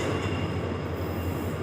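WDP4D diesel locomotive on a special express, its steady rumbling drone loud and close, with a sustained tonal layer that could be its horn; no talk.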